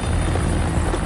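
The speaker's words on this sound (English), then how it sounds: "we got a chopper" A helicopter arrives in the video game Far Cry 6, giving off a loud, steady rotor rumble with a constant broadband roar across the brief moment.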